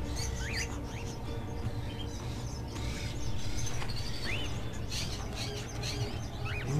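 Small birds chirp and tweet in short, scattered calls over a steady low ambient hum in the video game Fahrenheit, with no voices.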